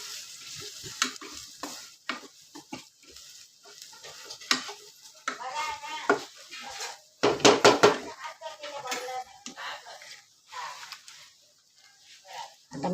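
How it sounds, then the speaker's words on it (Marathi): Spice mixture of asafoetida and chili masala sautéed on low gas for a quick brinjal dish: soft sizzling under repeated spoon scrapes and knocks on the pan, with a denser burst of clatter partway through. "आता मंद गॅसवर आपण जरा मिश्रण परतून घेऊ"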